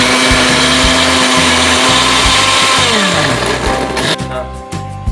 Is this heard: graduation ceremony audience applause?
no